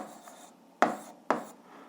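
Pen writing an algebra solution by hand on paper, heard as two short, distinct scratching strokes close by against a quiet background, with no talking.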